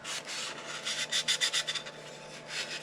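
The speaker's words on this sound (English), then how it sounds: "I might have been sanding here for about 5 minutes" Rhythmic rasping of sandpaper on wood, a series of quick back-and-forth strokes that grow louder in the middle, close and steady with no talking.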